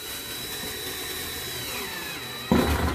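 Power drill driving a small 2-inch screw into wood, a steady close whirring drone that runs alone and swells louder in a final burst near the end.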